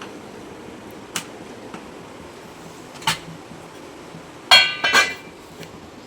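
A lid is set on a cooking pot of Chettinad crab gravy, giving a cluster of sharp metallic clinks and rattles. A few softer, scattered taps come earlier over quiet background hiss.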